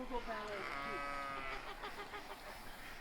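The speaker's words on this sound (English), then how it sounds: "Little Nestor, our little cow sheep" A sheep bleats close by, a long wavering cry followed by shorter quavering bleats.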